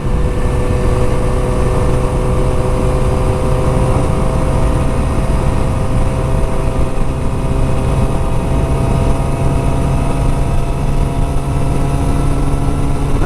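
Kawasaki motorcycle with lowering links, bar riser spacers and drop suspension, ridden out for a spin: a steady, loud engine drone holds an even pitch throughout, with continuous wind and road noise and no talking.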